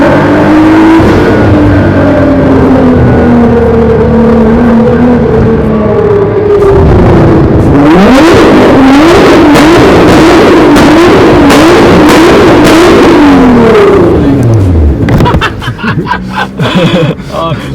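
Nissan GTR engine revs loudly, a sustained idle giving way to a series of rapid blips that rise and fall in quick succession before dropping off, with people chuckling and talking nearby.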